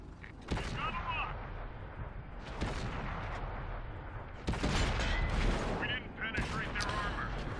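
Tank guns boom and shells strike around a Hellcat tank destroyer in a tank video game, with several sharp impacts, mechanical clanks and rumbling battle noise, while someone talks over the action.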